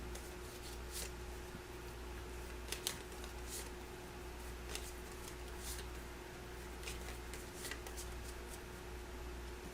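A deck of Imperium Legends board game cards shuffled at a table: soft, repeated riffling bursts and light card slaps spread across several seconds, quiet and close, over a steady low hum, with no talking.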